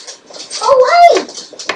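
A small dog gives a short, high, wavering whimper close by, with faint soft sounds around it in a quiet room.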